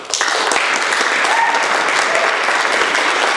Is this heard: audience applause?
yes